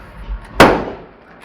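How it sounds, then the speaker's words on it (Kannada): One sharp, loud firecracker blast cracks close by at a homecoming celebration for a Sabarimala pilgrim, its echo fading quickly over quiet background noise. "ಅವ್ರು ಹೊಡಿತಾರೆ ಪಟಾಕಿ."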